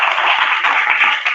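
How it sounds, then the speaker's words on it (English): Audience clapping at a political talk in Hoosick Falls, New York, a loud, dense burst of many hands close by, sustained and even for its short length. "So you can clap if you want to."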